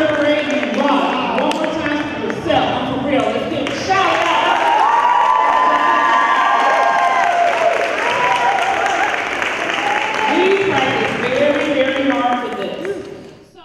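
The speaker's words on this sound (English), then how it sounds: "Let's give them a round of applause." Audience applause after an elementary school concert, clapping mixed with cheering and children's shouts, loud and lively throughout before trailing off at the end.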